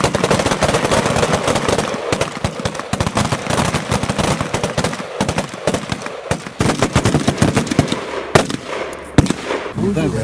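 Rifle fire from US Marines at cold-weather target shooting in Norway, with rapid, dense, loud bursts of shots nearly continuous across the stretch and a few heavier isolated reports near the end.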